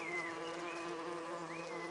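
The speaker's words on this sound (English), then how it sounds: "a buzzing noise" A bee buzzing close by, a steady droning hum with gently wavering pitch lasting the whole short moment, alone with no other sounds.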